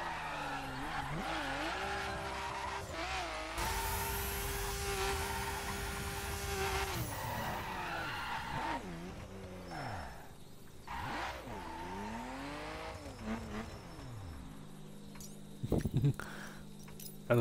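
A powerful car in the racing game The Crew accelerates hard, its engine rising and falling through gear changes, with tire squeals and skids at several points and clanks near the end.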